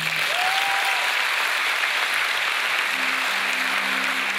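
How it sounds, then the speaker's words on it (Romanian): Steady concert audience applause at a live show, a full even wash of clapping with a faint tonal whistle and low hum in the background. "Haideți să-i aplaudăm!"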